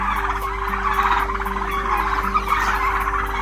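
Turkeys on a Punjabi farm gobble in repeated rattling bursts, fairly close and clear, over a steady low hum.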